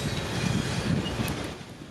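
A CSX freight train carrying juice reefers and mixed freight cars rolls past with a continuous loud rumble and wind buffeting the microphone.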